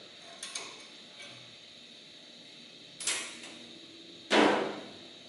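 The plastic hood comes off an IBM Selectric typewriter with a few light clicks, then two sharper clunks and snaps close by in a quiet room.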